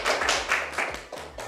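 Audience applause at a Ministry of Finance staff gathering, a burst of hand claps and taps with soft overlapping rhythm, fairly close and moderate in loudness.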